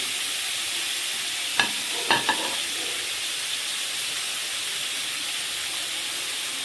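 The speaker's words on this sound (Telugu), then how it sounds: "ఇప్పుడు రొయ్యలలో బాగా ఉడికి ఉడికి రొయ్యల్లో నుండి బయటికి ఆయిల్ అనేది బయటకు వచ్చేస్తుందండి" Prawns sizzle steadily in hot oil in a pan, releasing their oil and water, a constant loud frying hiss with a few sharp clinks of a spatula stirring near the start.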